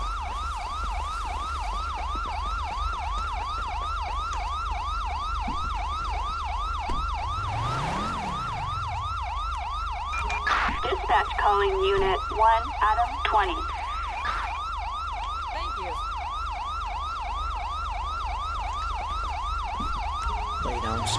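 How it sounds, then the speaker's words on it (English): An ambulance siren wails continuously in a steady, repeating up-and-down cycle, loud and close, over a low engine rumble. "I don't know exactly where this ambulance is coming from."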